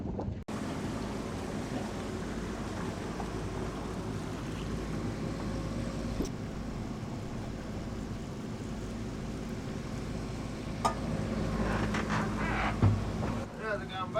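A boat motors into Newcastle harbour with a steady low engine drone under wind noise, continuous throughout, with a few faint clicks and a brief chatter of voices near the end.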